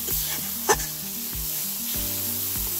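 Spice masala fries in oil for vegetable khichuri, a dense close sizzle under repeated stirring scrapes and soft thuds from the spoon, with no talk.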